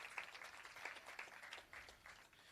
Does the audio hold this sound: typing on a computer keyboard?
no